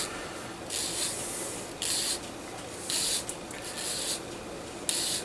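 A file sands the gate on a resin model kit of an SD Zaku in one direction, making close, repeated rasping strokes in a steady rhythm, alone and fairly quiet.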